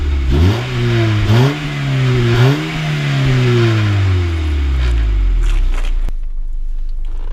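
A Honda Civic MB2 with a D14A8 engine and stock exhaust revs three times in quick succession, each rise and fall clear and close, then settles back to idle before a sharp click.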